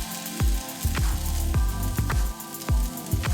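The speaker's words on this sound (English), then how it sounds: "add the bean sprouts and keep frying for 1 minute" Bean sprouts, goya bitter melon and spam crackle in a hot pan as they are stir-fried, with a continuous sizzle broken by rhythmic thuds and scrapes of tossing roughly twice a second.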